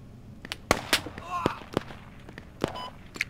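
Sharp, distant-sounding gunshots crack out in scattered single bursts during a Squad video game match, around half a dozen irregular reports over a low background rumble, with a voice speaking in between.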